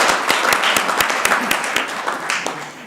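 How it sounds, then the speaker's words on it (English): Audience applause at a city council meeting: a steady wash of many hands clapping with sharp individual claps standing out, fairly loud and close, slowly tapering, with no talk. "Let's give them a round of applause, folks."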